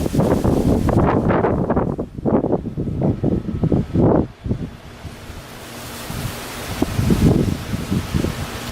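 Strong Hurricane Irma wind blasting past the microphone in loud, surging gusts that ease briefly midway and then build again, no speech.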